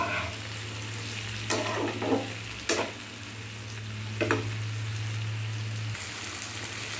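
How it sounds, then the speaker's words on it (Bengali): A Bengali mixed vegetable curry with hilsa fish head, potato and pointed gourd frying in a pan as it is stirred, with a continuous sizzle broken by several sharp scraping strokes of the spoon. "এবার সুন্দর করে নাড়াচাড়া করে আমি জল দেবো।"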